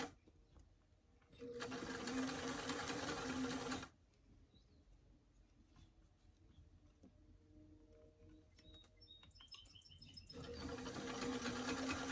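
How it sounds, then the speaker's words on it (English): A sewing machine runs a seam across the crown of a small doll hat, a steady whir for a couple of seconds, then quiet fabric handling and faint clicks before it starts up again. "I'm going to sew from one side to the other side"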